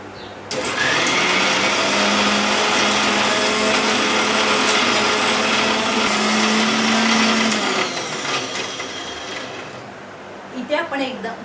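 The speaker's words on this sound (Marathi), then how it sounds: "मिक्सरला लावून घेऊया आपण." An electric mixer grinds a cooled spice paste for Malvani-style bhaji aamti, a loud steady whine starting abruptly and running for about seven seconds before cutting off, followed by faint handling clatter.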